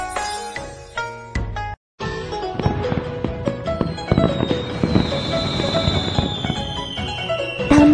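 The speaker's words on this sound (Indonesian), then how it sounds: "Ada banyak sekali kembang api." Cartoon fireworks for a Chinese New Year festival scene: a dense run of crackling bursts and pops over a bright musical backdrop after a brief silent gap, loud and busy throughout.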